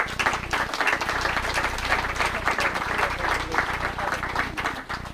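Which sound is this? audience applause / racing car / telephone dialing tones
audience applause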